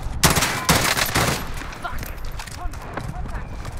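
Gunfire in a video game, a couple of loud sharp bursts of shots up front followed by scattered quieter pops and clatter, with voices talking over the action.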